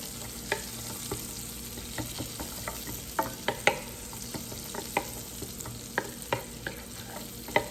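Carrots sauté in a pan of butter and olive oil for a pureed chicken pot pie, a soft steady sizzle broken by regular scraping clicks of stirring, close and alone.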